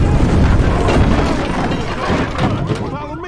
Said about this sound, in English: Shoot that gas can.